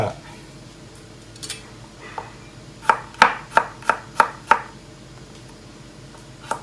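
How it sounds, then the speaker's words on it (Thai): Seven sharp, evenly spaced knife chops through garlic on a cutting board, close and crisp, preceded by a few softer taps amid a quiet room hum. "หั่นกระเทียมใส่นิดนึงนะครับ"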